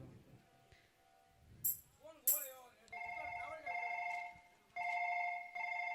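Telephone ringback tone during a phone call, repeated electronic ring bursts after brief speech, moderately loud and steady.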